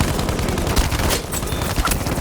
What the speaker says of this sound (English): Sounds like somebody's a shotgun